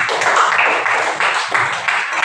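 Children clap their hands in a classroom, a fast, continuous burst of applause from a group that pauses briefly and then resumes, close and fairly loud.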